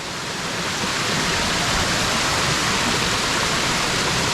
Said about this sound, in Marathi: पाण्याचा आवाज मस्त आहे